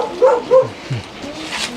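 A dog greets someone it has not seen for a long time with a few short, excited yips and whimpering barks, close by and fairly loud, in quick succession.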